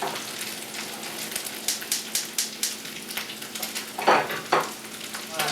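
Crab cakes fry in a hot pan with a steady crackling sizzle, broken by sharper spits and pops that grow louder toward the end; no one speaks.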